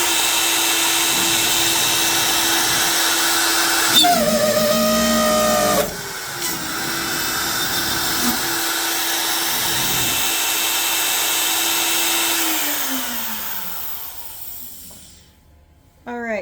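CNC router cutting wood at 150 inches per minute with a spindle near 20,000 RPM, a steady loud whine with a sustained tone that shifts pitch as the bit enters and leaves the cut, then winds down near the end.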